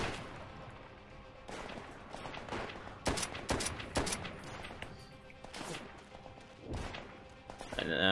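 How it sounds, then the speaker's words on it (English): Machine gun fire and scattered shots ring out across a Call of Duty: World at War battle, sharp bursts and thuds coming and going at moderate distance beneath a player's talk. "There's a machine gun somewhere,"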